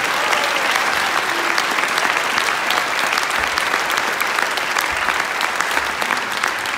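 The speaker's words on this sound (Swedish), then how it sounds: "Ge honom en stor applåd!" Dense, loud audience applause for artist Johannes Winkler at a joint culture school performance, continuous and even throughout with no break.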